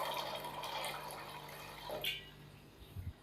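Water being poured from a vessel into a cooking pot of soaking chickpeas, a steady close splashing pour that tapers off, followed by a couple of low knocks near the end.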